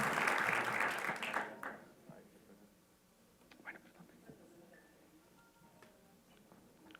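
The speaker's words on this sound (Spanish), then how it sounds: "Les pido a todos, por favor, un fuerte aplauso para dar la más fraternal a este conversatorio" Applause from an audience at a panel discussion on public auditing, loud at the start and fading within about two seconds, followed by quiet room noise with scattered light ticks.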